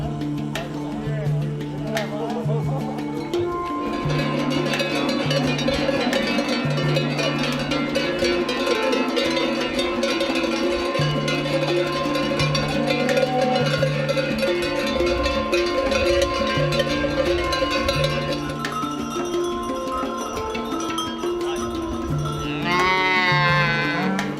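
A herd of cows wearing cowbells is driven on foot up a valley in the Basque mountains during a transhumance, with steady clanging bells and repeated mooing throughout, joined by people talking nearby.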